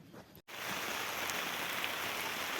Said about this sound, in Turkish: Yağmur.